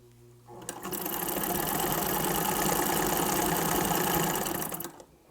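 Close and loud, a vintage Singer sewing machine fitted with a two-thread embroidery attachment starts up and stitches in a fast, steady mechanical chatter for about four seconds, then stops.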